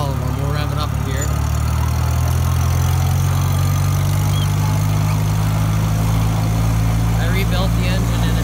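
A 1948 Farmall Cub tractor with a rebuilt engine runs loud and close, a steady low engine drone that holds throughout with a slight rise in pitch, with no voice over it.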